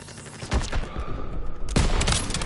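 Gunfire in the video game Call of Duty WWII: a short burst of rapid shots and heavy booms, loud and close, with a sharp blast near the end.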